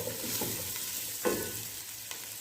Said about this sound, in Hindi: आधा मिनट में इसको सौते करूंगी।